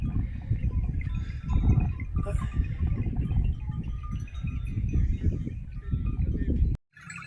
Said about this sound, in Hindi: बकरियों का रेवड़, सहरा और बकरियों का रेवड़।